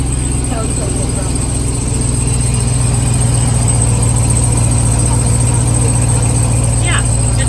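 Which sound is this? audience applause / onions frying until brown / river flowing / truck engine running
truck engine running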